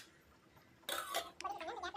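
A plate clinks down as a lid onto a metal pot of water set to boil, with a short bright clatter, followed by a light ringing scrape, close and fairly quiet.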